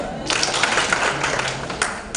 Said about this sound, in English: if you can hear me, clap your hands